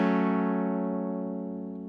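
A single sustained synth note with an envelope sweeping the filter cutoff rings out, bright and harmonically rich at the attack, then slowly darkening and fading over about two seconds.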